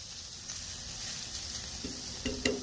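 Brisket sizzling on a VEVOR 22 inch tabletop griddle, a steady faint hiss of frying with a few louder crackles near the end.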